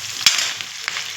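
Vegetables and onions frying in mustard oil in a wok, a steady close hissing sizzle with a few sharp crackles and stirring scrapes.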